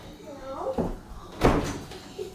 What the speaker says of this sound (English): Why are you closing the door?